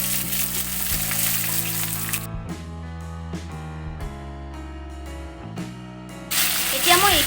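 Onions and bay leaf frying in oil alongside meat make a loud, close sizzle that eases into a quieter stretch with a low steady hum, then flares back up into vigorous crackling near the end.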